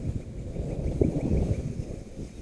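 Steady, rumbling wind buffets the microphone during the flight of an HMF S550 hexacopter drone, with low blustery noise throughout and a faint hum above.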